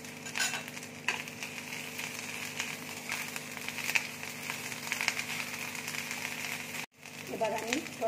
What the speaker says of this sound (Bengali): এবার আমি আদা রসুনের পেস্ট, আদা রসুন কাঁচা লঙ্কা বাটাটা দিয়ে দিচ্ছি।